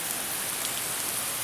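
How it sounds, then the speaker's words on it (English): Steady rain falling on a rainy day, a dense even hiss of drops hitting surfaces that holds level and unbroken throughout, with no talk. "It is pretty rainy."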